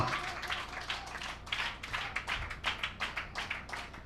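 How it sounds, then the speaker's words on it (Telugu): A church congregation clapping loudly in steady, rhythmic bursts that fill the room, with fairly even beats and no voice clearly rising above them. "గట్టిగా చప్పట్లు కొట్టావు"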